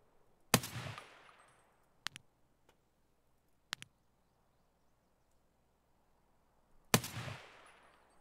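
Mounted machine gun in the shooter Escape from Tarkov, heard here as a few isolated heavy reports: a loud blast with a long echoing tail, two sharp cracks spaced apart, then another booming shot after a quiet stretch.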